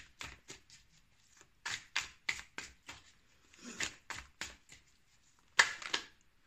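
Tarot cards being shuffled and drawn from a Romantique Tarot deck, heard as a run of short, crisp card snaps and slaps in uneven bursts, close by, with quiet gaps between them and one sharper slap near the end.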